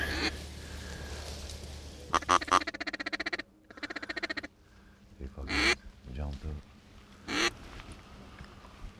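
Ring-necked ducks calling from a Bayou Black hunting blind during a slow morning hunt, giving short bursty calls and clustered raspy notes at moderate distance, with people talking in between.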